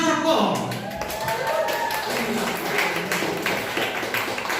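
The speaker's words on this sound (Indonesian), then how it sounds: "Selanjutnya boleh tepuk tangan juga untuk Brigita Cynthia" Audience clapping at an Indonesian film event for the movie 'Kaget Nikah' as cast members are introduced; a dense, steady patter of hands runs throughout, with a host's amplified voice speaking over it.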